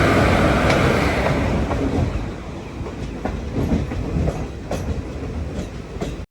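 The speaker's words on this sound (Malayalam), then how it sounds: "ഈ കാണുന്നത് ഇവിടെ മലബാർ എക്സ്പ്രസ്." The Malabar Express rumbles past loud and close, a heavy roar with rhythmic clickety-clack of wheels over rail joints that eases slightly before cutting off abruptly.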